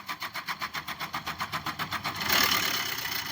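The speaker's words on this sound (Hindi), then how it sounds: "देख सकते हैं गाड़ी तो स्टार्ट हो गई" A car with a hard-starting fault runs roughly right after starting, close and loud, with an uneven rhythmic chugging pulse that rises into a harsher, noisier rattle partway through.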